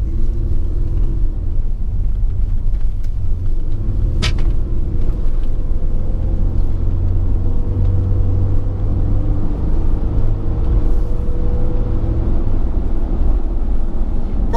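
A 1999 Toyota Hilux Surf 3.4L V6 SSR-X driving on a road test, a steady low engine drone and road rumble heard from inside the cabin, with a brief clunk partway through and no talk.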